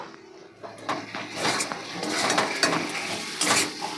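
Fried potatoes tumble into a cooking pot for a katla fish curry with cauliflower, bringing clattering metal scrapes and knocks of a spoon against the pot, close and fairly quiet.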